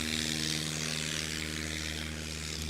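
A STOL airplane's propeller engine throttles up for takeoff at a 2025 National STOL Series championship in Sulphur Springs, Texas, sending out a steady, loud droning roar with no other sounds.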